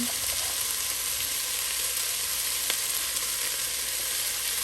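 Onions, carrots and celery sizzle in olive oil in a pot for a beef stew, a steady, even frying hiss filling the whole stretch with no talking.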